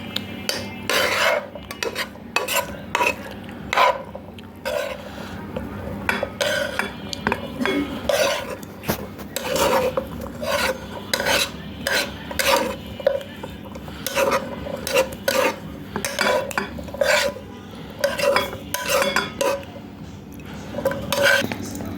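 Fried sweet corn kernels are scraped out of a cooking pot into a bowl, with repeated close metallic clinks and scrapes of a spoon against the pan in an uneven rhythm.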